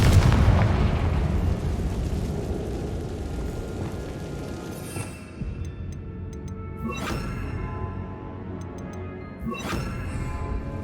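Confringo spell blasts in Hogwarts Legacy, a heavy rumbling explosion followed by two or three sharper bursts spaced a couple of seconds apart, loud and with no talk.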